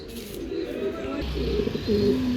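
Racing pigeons cooing nearby in a loft, several soft throaty coos overlapping against low background murmur.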